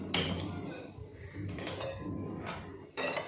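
A metal cooking pot clanks down sharply, followed by a few more light clinks and scrapes of cookware, close by and moderately loud.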